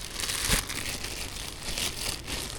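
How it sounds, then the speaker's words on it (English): A plastic bag with an elastic edge crinkles and rustles softly during the unboxing of a Kove 450 Rally motorcycle, a steady run of quiet crackling handling noise with a few brighter crunches. "Oh wow, a plastic bag with an elastic bit on it."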